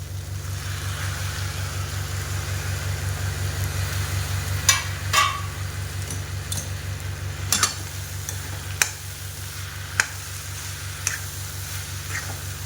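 Tomatoes frying with roasted onion in a pan for spicy tomato chutney, a steady hiss with a low rhythmic hum underneath and scattered sharp clicks and taps from stirring, no talking.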